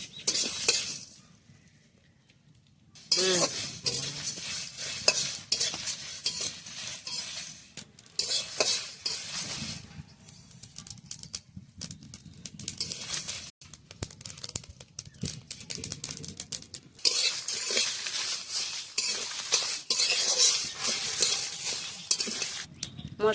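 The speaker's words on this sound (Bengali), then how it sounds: "আস্তে আস্তে জাল দিয়ে একটু ভাজতে হবে।" Whole spices (mustard, fennel, fenugreek, coriander and chilli) are stirred in a pan over a low flame for a village-style mango pickle. Close, scratchy scraping and light sizzling come in repeated bursts after a short quiet pause at the start.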